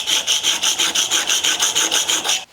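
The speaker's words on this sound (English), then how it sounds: "I'm going to just continue on honing from there" A block plane blade is honed on a sharpening stone in steady back-and-forth strokes, about fourteen even rasping passes close up, with no talk, ending abruptly.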